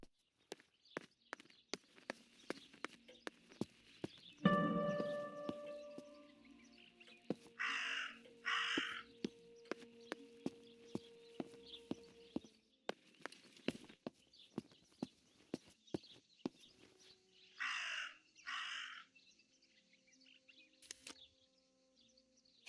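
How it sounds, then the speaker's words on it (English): Raven in the video game Martha Is Dead giving two pairs of harsh, loud caws spaced well apart, over a steady ticking of footsteps and occasional other game sounds. "That raven is making a big fuss."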